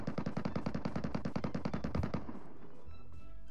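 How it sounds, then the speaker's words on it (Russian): A Vintorez rifle fires in PUBG Metro Royale, a rapid burst of about twenty close shots in quick rhythm, then a short tail with faint distant rattling. "стреляет с винтореза"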